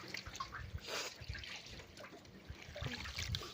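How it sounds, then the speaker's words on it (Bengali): Freshly netted river fish are rinsed in water, giving a soft, continuous trickling and dribbling with small splashes. The sound is faint and close, with no voices. "এখন এই মাছগুলো আমাদের ধুতে হবে"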